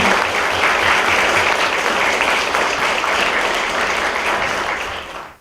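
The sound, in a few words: audience applause welcoming a guest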